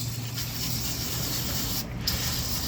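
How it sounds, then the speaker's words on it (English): Steady hissing spray of cleaner onto a 4th-generation Toyota 4Runner grille runs continuously at close range, a broad even wash of sound with a brief dip near the end. "So I just go ahead and spray it down."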